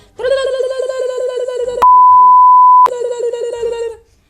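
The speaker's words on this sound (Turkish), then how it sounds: "Benim telefonumun alarmı böyle." A phone's looping electronic alarm melody rings loudly, broken midway by a steady pure beep tone lasting about a second before the tune resumes.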